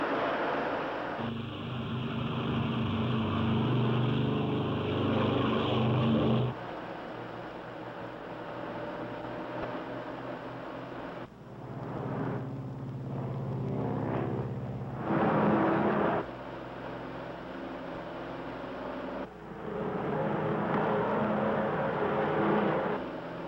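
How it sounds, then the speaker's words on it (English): Aircraft engines running up to takeoff power, a loud sustained roar and whir that swells and shifts in waves over about twenty seconds with no voices. "Ready for takeoff. Takeoff power."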